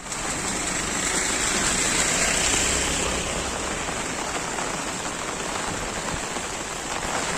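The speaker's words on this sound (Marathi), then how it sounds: "पाऊस जोरात असल्यामुळे आहे ना माझा तुम्हाला आवाज येत आहे जास्त" Heavy monsoon rain pours down in a Konkan village near Dapoli and Khed, a dense, steady hiss that stays loud and unbroken throughout, with no voices.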